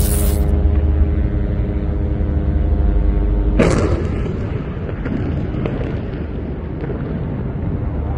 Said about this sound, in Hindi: गाजा के कई इलाकों में इजराइल ने बम लगाकर इलाकों को उड़ाया है।